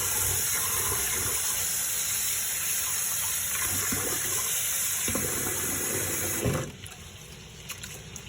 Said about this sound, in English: I'm going to wash the rice out.